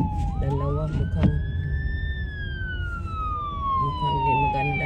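Two fire trucks' wailing sirens sweep up and slowly fall in pitch, loud and steady over background traffic rumble on a snowy day in Independence, Missouri, with a brief horn-like blip early on.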